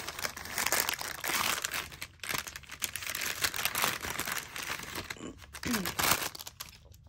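Crinkly plastic packaging of watercolor paint sets is handled up close, giving quiet, continuous crackling and rustling with brief pauses.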